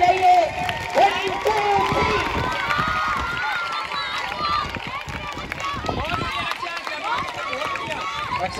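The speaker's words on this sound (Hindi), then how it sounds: "फुल ताली रुकनी नहीं चाहिए" Audience clapping and cheering at a girls' kho kho match outdoors, steady crowd applause running throughout beneath a loud commentator's voice and players running.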